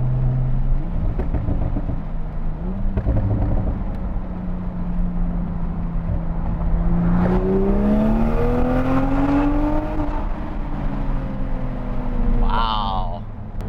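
HKS Toyota A90 Supra widebody with an inline six engine, driven through a tunnel: a steady engine drone climbs sharply in pitch as it revs, peaks, then drops at a gear shift, echoing loudly around the enclosed space.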